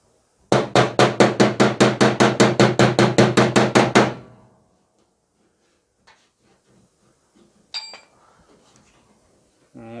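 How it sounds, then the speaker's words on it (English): Spot welding on the body of a 1972 MG Midget: a rapid run of about fifteen loud, evenly spaced buzzing pulses, then quiet workshop rustles and a short metallic clink. "put a spot weld there"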